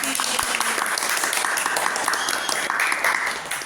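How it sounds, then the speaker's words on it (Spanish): A room full of people applauds steadily, a dense patter of clapping running throughout the short clip. "¿Podemos aplaudir?"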